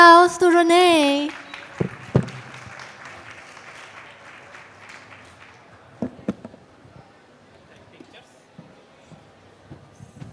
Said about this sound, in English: Another round of applause to Renee.